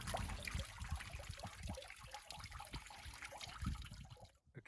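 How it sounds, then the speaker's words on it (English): Spring water at Barrel Springs on the Pacific Crest Trail flows gently, a faint, continuous trickle and babble close by, fading out at the end, with no voices. "as you can see, the water is flowing gently here."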